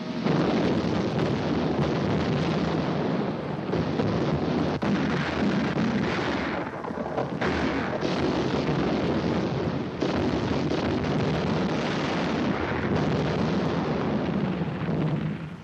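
Continuous heavy rumbling booms and blasts of heavy naval gunfire in 1940s wartime footage, dense and loud, like sustained distant gunfire with wind buffeting the microphone.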